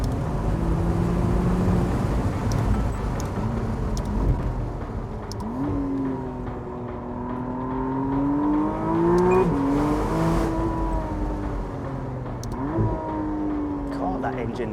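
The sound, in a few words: McLaren Artura Spider engine revving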